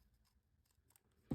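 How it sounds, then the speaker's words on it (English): A single quick snip of scissors cutting embossed cardstock during Christmas card making, close and crisp at the very end after near silence. "I'm actually going to snip this a little bit more."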